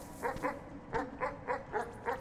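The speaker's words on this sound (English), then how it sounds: "There's another dog." A dog in a video game gives a run of seven quick, evenly spaced yips or barks, moderately close and fairly quiet, with no talking.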